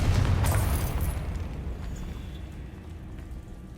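A Confringo fire spell from the Hogwarts Legacy video game erupts with one loud, booming blast at the start, then a long rumbling decay that fades over several seconds.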